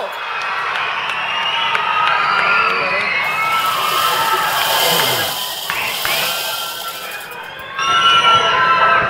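A large outdoor crowd at a plant foundation-stone ceremony claps, cheers and shouts, with whoops and children's voices in a sustained roar that swells again near the end.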